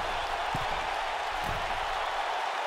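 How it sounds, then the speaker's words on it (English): Arena crowd in the WWE 2K wrestling video game roars in a steady, loud, dense wash of cheering and applause that holds throughout, with a couple of brief low thumps underneath. "Listen to the ovation from this crowd"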